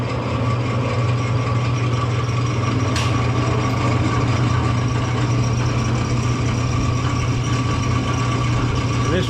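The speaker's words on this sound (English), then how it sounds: "we're going to be able to go ahead and flip the machine on. You see it starts spinning" An antique wheel balancer machine spins up a wobbling wheel, giving a loud, steady motor hum that drones on without a break, with one sharp click early on.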